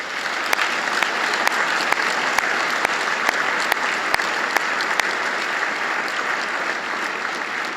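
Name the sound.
audience applause for university faculty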